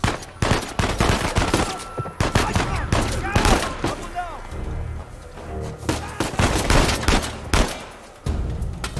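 Heavy gunfire in the Uncharted 4 video game, with bursts of rapid automatic fire and single shots crackling loudly across the scene, briefly dropping off before resuming.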